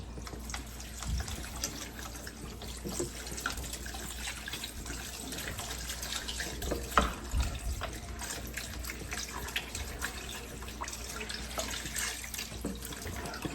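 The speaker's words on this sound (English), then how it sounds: "We finna add the rest of this broth." Broth pouring steadily into a pot of chitterlings, a continuous liquid splashing and trickling that runs unbroken for several seconds at moderate closeness, with no talk over it.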